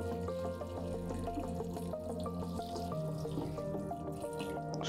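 Tap water trickles and pours steadily into a container holding a wabi kusa aquarium plant arrangement, a continuous close liquid sound with a slight change in tone partway through and no talking.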